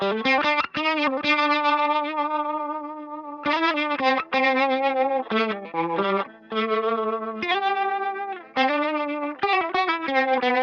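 Electric guitar through the drive channel of a Fender Celebrity pedal, overdriven sustained notes and short phrases played close and loud, each swelling and ringing out, with no talking.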